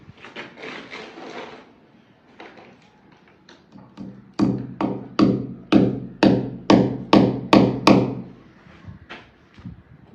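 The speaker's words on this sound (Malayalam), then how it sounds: "ആണി അടിക്കുമ്പോൾ അതിൻ്റെ എങ്ങനെയാണ് അതിൻ്റെ ഒരു കപ്പാസിറ്റി എന്ന് നമുക്കൊന്ന് ടെസ്റ്റ് ചെയ്യാം." A hammer drives a nail into a gypsum-plastered wall: a run of sharp, close, resonant knocks, loose at first, then a steady series of about a dozen evenly spaced heavy blows, tapering off to lighter taps.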